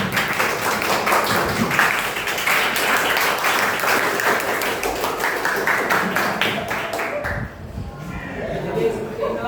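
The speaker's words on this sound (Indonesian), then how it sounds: "aplaus untuk teman-teman" A room full of people applauds friends at a vocational high school visitation event, dense steady clapping that carries for about seven seconds before thinning out, with voices mixed in.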